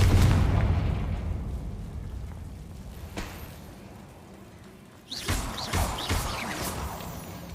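Confringo spell explosion in Hogwarts Legacy, a heavy rumbling boom that decays slowly, followed by a sharp click and then a second cluster of crackling blasts and bursts.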